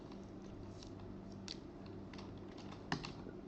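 Keys tapped on a computer keyboard while a folder name is typed, quiet scattered clicks at an uneven pace against a low hum, with no talking.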